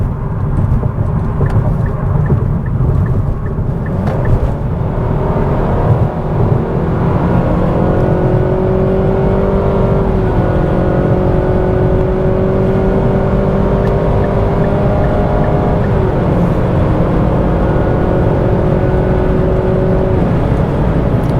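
Cabin of a 2026 Nissan Sentra SR accelerating hard to pass on the road, a loud sustained engine drone rising steadily in pitch over heavy road and wind noise, with no speech.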